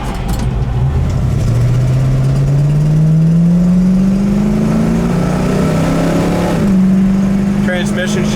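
A 1967 Ford Mustang V8, running on seven cylinders, accelerates on transmission kickdown, engine note climbing steadily and then dropping as the gearbox shifts up, loud and close throughout.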